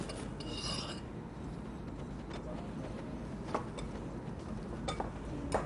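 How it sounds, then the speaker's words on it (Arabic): Flour, baking powder and salt stirred together in a bowl: a steady soft scraping and rubbing texture with occasional faint clinks of utensil against the bowl, quiet and close, with no voices. "نخلط المواد الجافة مع بعض كويس"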